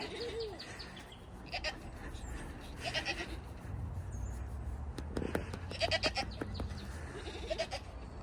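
Goats in a herd, a nanny among them, bleat a few times at moderate distance over steady outdoor background noise, with short calls spread through the clip.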